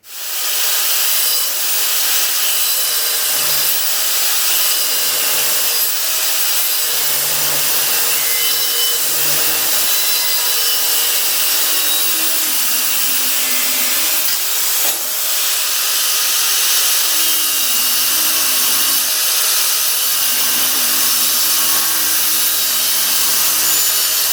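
A worn bandsaw cuts pieces out of a workpiece with a steady, loud hissing rasp and a low motor hum underneath, running continuously and close up without any talk.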